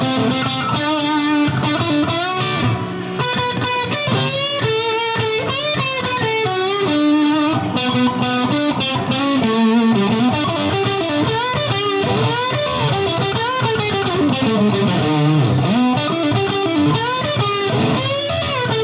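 A Firefly Les Paul electric guitar with dual P90 pickups plays through heavy distortion, with continuous, loud, sustained chords and melodic runs in an unbroken stream.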